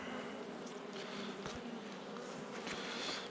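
Honeybees from an opened hive, checked in early March for varroa mites, give a steady, dense buzzing drone close by, with a few louder individual bees passing near the microphone; no speech.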